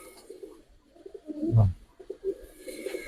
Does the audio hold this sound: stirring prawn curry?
no